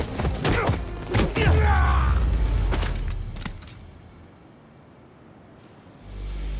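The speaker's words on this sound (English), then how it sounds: "The fireworks! They're lit!" Fireworks go off in the Spider-Man 2 video game: heavy close thuds and booms with a brief whistling streak. They fade to a low quiet rumble, then swell again at the very end.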